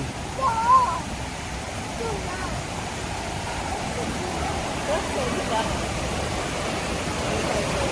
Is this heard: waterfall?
yes